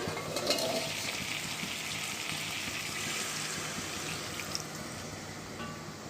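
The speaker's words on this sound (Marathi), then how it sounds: "ताटावरचं पाणी आता आपल्याला टोपामध्ये ओतायचं आहे" Water poured from a plate into a pot with a continuous splashing rush, fairly soft and close, over a faint sizzling background.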